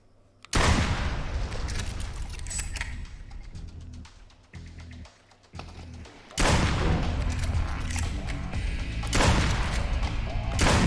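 Video game gunfire in bursts: a long stretch of rapid loud shots, a brief lull with scattered shots, then more sustained heavy firing, close and dominant with no talk.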